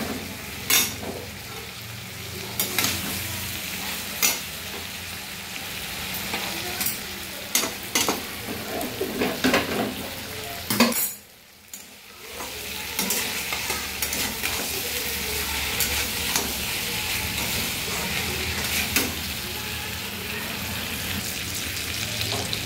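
Ridge gourd and potatoes sautéing with spices in a pan give a continuous sizzle broken by frequent scraping strokes of a spatula, with a brief quiet gap near the middle and no talking.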